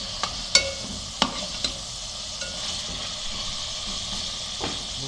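Chicken for nihari fries in a pan with a steady, close sizzle and hiss, broken by a few sharp clicks and scrapes of stirring; no one talks.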